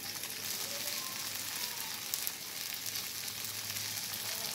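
An atta cheela, a thin wheat-flour pancake, fries in oil on a pan with a continuous dense, crackling sizzle that stays steady and fairly close throughout, with no talking.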